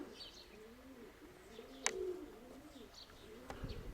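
Pigeons in a backyard loft cooing softly in repeated low rolling phrases, faint and somewhat distant, with a couple of brief sharp clicks.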